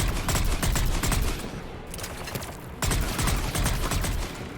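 Rapid automatic gunfire in the video game Mass Effect 3, dense overlapping bursts of shots that pause briefly before another loud volley.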